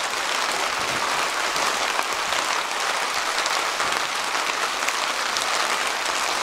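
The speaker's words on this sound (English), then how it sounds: "This rain uh, is ruining everything." Heavy summer rain pours down in an Italian backyard, a dense, steady roar of drops hitting surfaces, loud and unbroken, with no speech.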